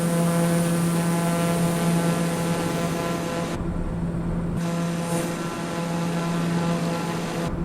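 Airliner engine drone in Flight Simulator 2020 during a KSEE to LAX flight, a steady, loud, tonal hum with layered harmonics that holds throughout, its upper hiss briefly dropping out midway.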